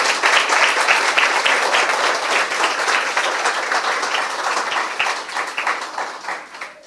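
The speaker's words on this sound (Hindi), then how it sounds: "आइए यीशु के लिए जोरदार ताली बजाएंगे।" A church congregation claps loudly and steadily, a dense roar of hand claps sustained throughout and tapering slightly near the end, with no speech over it.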